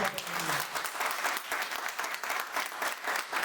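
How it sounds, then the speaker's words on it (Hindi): An audience at a business gathering bursts into hearty applause, a crisp crowd of clapping hands that swells and dips in waves, with a short voice at the start. "जोरदार ताली"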